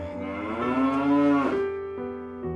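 A cow in a children's story lets out a long, loud moo that rises, holds and then falls, followed by a softer trailing lowing with no voices.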